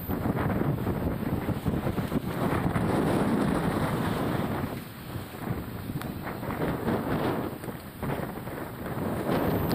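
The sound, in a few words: sudden strong wind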